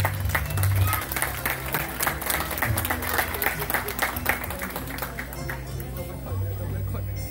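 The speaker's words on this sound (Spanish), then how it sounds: "Aplausos." Applause from guests at a quinceañera celebration, steady clapping and crowd noise mixed with music or background chatter, loud and continuous across the whole stretch.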